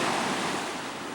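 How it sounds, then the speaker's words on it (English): Ocean waves break along a Puerto Rico shoreline near high tide, a steady loud wash of surf with wind rushing across the microphone, no voices. "there's a natural break all along this shoreline where it breaks the waves up"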